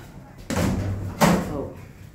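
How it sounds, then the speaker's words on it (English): Lift doors on a ThyssenKrupp-modernised lift with a gated rear door at an M&S store close with two distinct thuds about a second apart, the second sharper, in a quiet interior. "Doors closing."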